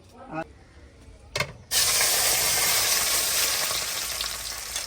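Onions drop into very hot oil in a karahi for a traditional village dish, and a loud, steady sizzle bursts out and keeps spattering after a couple of light knocks.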